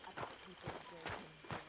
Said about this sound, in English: I'll get my horse real quick.